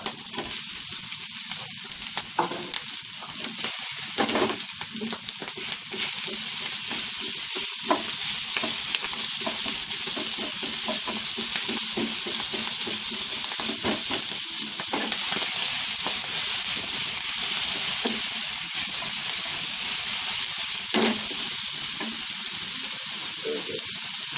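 Pork stir-frying in a hot pan, producing a constant loud sizzle and hiss with repeated scraping and tossing sounds from stirring, close up and steady over about twenty-four seconds.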